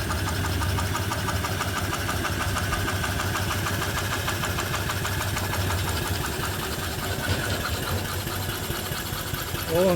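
Antique steam engine with a large flywheel running steadily off a boiler, a close, continuous rhythmic chuffing and mechanical knocking that holds even throughout, with no talk.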